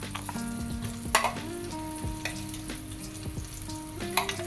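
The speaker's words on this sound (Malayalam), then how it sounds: "ഇത് നന്നായിട്ട് കലക്കുക" A spiced brinjal curry mixture with chilli powder, turmeric and salt sizzles steadily in a pan, with scraping stirs and occasional louder clinks close by.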